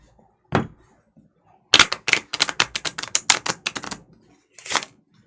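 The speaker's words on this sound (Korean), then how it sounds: "반을 갈라서 또 카드를 뒤죽박죽 했습니다" Playing cards are split and shuffled up close: a single snap, then a quick run of crisp riffling clicks for about two seconds, and one last tap as the deck settles.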